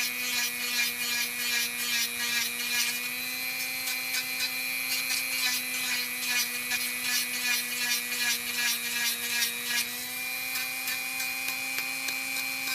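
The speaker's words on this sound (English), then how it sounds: "Now I'll go on to the second nail. Same thing. Round and around and around and around and around." A Dremel rotary tool whines at a steady high pitch while trimming a dog's nail, the grinding buzz holding continuously up close with small rubbing variations and no speech.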